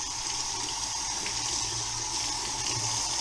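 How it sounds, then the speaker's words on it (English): Crappie fillets rinsed under a steadily running kitchen tap, a continuous even rush of water hitting the sink close by, with no talk over it. "Rinse these off."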